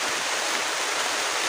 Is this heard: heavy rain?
yes